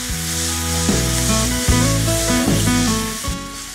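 Pickle of brinjal and cabbage fries in tempering oil in a pan, giving a steady broadband sizzle with brief scraping and stirring sounds, close and fairly loud, with no talking.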